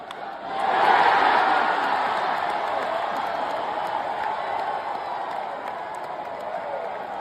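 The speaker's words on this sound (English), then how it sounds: "the crowd's chanting his name" A baseball stadium crowd chants a player's name after his sixth-inning single, a broad, sustained roar of many voices at a distance that swells quickly and then holds steady.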